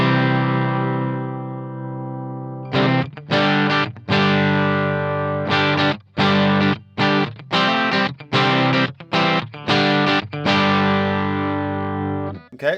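An electric guitar plays through a real amp and speaker cabinet turned up, giving a distorted, sustained chord, then a run of choppy rhythmic chords with short gaps. Loud and up close, with no talking.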